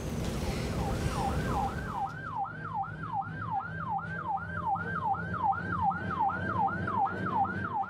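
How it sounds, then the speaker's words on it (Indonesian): An ambulance siren wails in a steady, repeating rising-and-falling cycle, loud and close, heard over traffic rumble on a road in Klaten, Central Java, where the ambulance carrying an emergency patient is blocked by a private car. "ambulans yang mengangkut pasien darurat dihalangi mobil pribadi di Klaten, Jawa Tengah"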